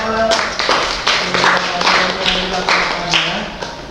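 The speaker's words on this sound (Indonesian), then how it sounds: "tepuk tangan untuk Tesya." Classroom audience clapping for a student volunteer, a brisk uneven patter of hand claps in several bursts, fairly close and moderately loud, with faint voices underneath.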